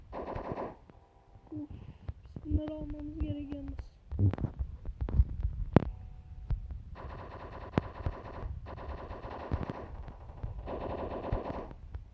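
Rapid automatic gunfire bursts from a shootout in the video game Block Strike, with repeated shots and short pauses across the clip, loud and close in a game soundtrack.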